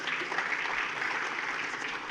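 Audience applause for a panel at an investors' summit, a steady, moderately distant wash of clapping from a large hall that holds evenly for about two seconds.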